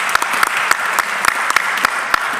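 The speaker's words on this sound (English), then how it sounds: "I'd like you to give yourselves a round of applause for showing up here today" An audience applauds itself during a talk on behavioural change, loud close clapping with sharp individual claps rising above a dense steady patter, continuing without pause.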